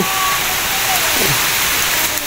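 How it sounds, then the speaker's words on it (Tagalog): Heavy rain falls in a rural Philippine setting, a dense loud hiss of drops drumming on surfaces all around, continuous with faint sounds underneath. "Ulan na naman."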